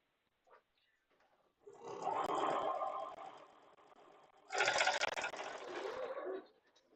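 Domestic sewing machine stitching a jelly roll quilt, running in two steady bursts of rapid mechanical whirring separated by a short pause, close and loud with no talking.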